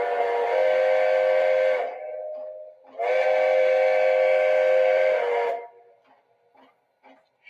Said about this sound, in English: that's the default whistle of 90